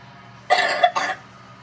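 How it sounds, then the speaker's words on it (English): A single harsh cough, split into two quick bursts, close to the microphone over a quiet background hum. "we're gonna have to take care of that cough"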